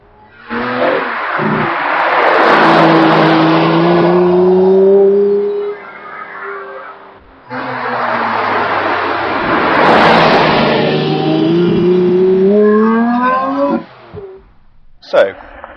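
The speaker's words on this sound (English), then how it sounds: "when you are driving on the road in your Lamborghini Reventon" A Lamborghini Reventon supercar drives on the road, its engine roaring loudly in two long rising surges separated by a brief lull.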